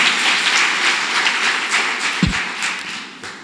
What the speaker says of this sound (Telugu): మనమందరం కూడా గట్టిగా చప్పట్లు కొట్టి అభినందన.